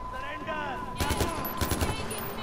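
Gunfire in the video game Far Cry 4: a rapid burst of shots starting about a second in, a short gap, then a second volley, loud over game music and ambience.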